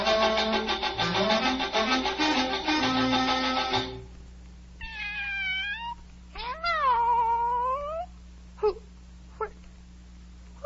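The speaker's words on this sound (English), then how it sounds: "Oh, it's the Cheshire Cat from the Duchess's." Cheshire Cat meowing in an Alice in Wonderland video game: a few drawn-out, wavering meows and short mews, close and clear, following a dense stretch of game music.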